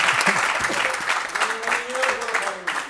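An audience at a Senegalese political interview show applauds, the clapping dense and uneven, with a voice speaking briefly over it.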